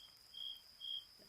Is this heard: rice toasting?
no